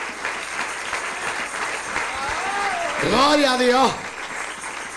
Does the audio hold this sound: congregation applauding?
yes